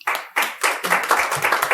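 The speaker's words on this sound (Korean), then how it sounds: "우리 박수로 모시겠습니다." An audience at an education forum claps to welcome a speaker, a short burst of close, uneven hand claps lasting under two seconds.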